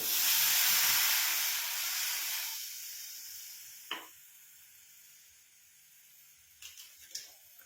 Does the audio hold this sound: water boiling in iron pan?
yes